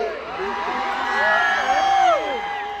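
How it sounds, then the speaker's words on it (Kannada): Crowd at the Thathayya festival in Chikkanayakanahalli cheering and whooping, a loud, continuous swell of voices with shouts rising over the noise. "ಒಂದು ಜೋರಾದ ಚಪ್ಪಾಳೆ ಬರಲಿ"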